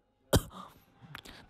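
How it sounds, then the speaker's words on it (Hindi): A single sharp cough rises near the mic from someone in Karachi breathing charcoal smoke while burning coals for biryani, followed by softer throat sounds and breathing. "मुझे इसके धुएं से खांसी लग गई है"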